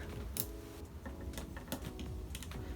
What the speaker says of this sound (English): does it have some nice clickety ratchets?